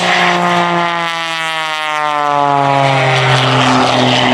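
Aerobatic propeller airplane with a 380-some horsepower engine flying inverted down the runway at an air show, a loud buzzing engine drone whose pitch slides downward as it passes close by.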